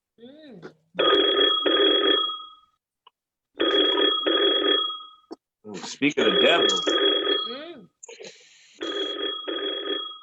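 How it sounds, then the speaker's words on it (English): An indoor telephone bell rings in repeated double bursts, loud and close, while people talk between and over the rings. "Phone is ringing."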